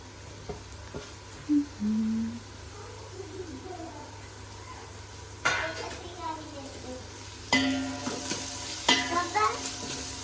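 Mushrooms and capsicum stirred with onions in a hot pan, a low steady sizzle broken by occasional scrapes and clatters of a utensil on the pan. Faint background squeaks and a voice are heard.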